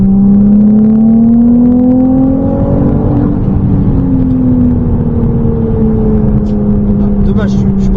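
Ferrari 296 GTB driven at full throttle on a track at Circuit Trappes, engine roaring loud and steady with a rising then falling whine, an instructor talking over it.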